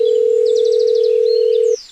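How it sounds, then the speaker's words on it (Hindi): A steady, loud telephone dial tone hums continuously for nearly two seconds, then cuts off abruptly as a call to summon a plough is placed, with faint higher beeps and chirps over it. "अरे ओ बेटा, हल को फोन लगाओ रे।"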